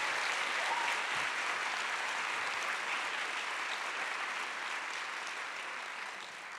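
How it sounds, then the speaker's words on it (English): A large audience at a school district's new educator orientation gives the kids a steady round of applause, a dense continuous wash of clapping heard from a distance that fades slightly toward the end. "Give them another round of applause."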